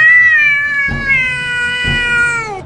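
A cat lets out one long, loud, wavering meow close by, sustained for over two seconds with faint thumps underneath.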